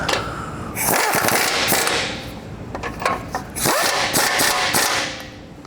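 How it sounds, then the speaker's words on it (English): A ratchet with a 17 mm socket tightens bolts on a truck's lift-kit drop brackets, giving two bursts of rapid, close clicking separated by a short pause. "that's a 17 millimeter socket. You can tighten up these two"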